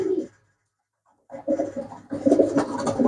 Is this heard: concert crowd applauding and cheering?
no